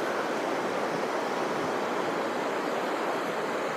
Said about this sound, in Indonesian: air di sekitar saya ini, air terjun yang luar biasa